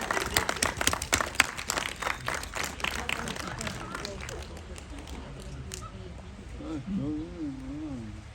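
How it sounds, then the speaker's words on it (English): An audience applauds at a zoo sea lion show in Blackpool, a dense burst of clapping that fades after a few seconds, with crowd chatter and a voice talking over the tail end. "Can we give her a big round of applause?"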